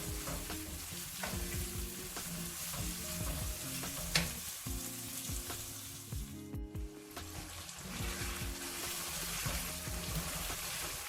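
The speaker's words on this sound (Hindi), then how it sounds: "अब झींगों को मैंने इसी मसाले में 3 से 4 मिनट तक के लिए भून लेना है।" Prawns fry in a spice masala, hissing and sizzling steadily while a utensil stirs and scrapes through the pan, with a few louder clinks and one brief dip in the noise midway.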